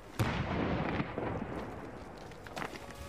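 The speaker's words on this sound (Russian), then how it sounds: "у нас сейчас будет два взрыва" A special-effects explosion on a Doctor Who film set: a sharp blast bursts out, followed by a rumbling roar and a second, smaller pop, heard from some distance.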